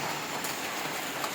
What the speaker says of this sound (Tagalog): Parang lakas ng ulan dito guys.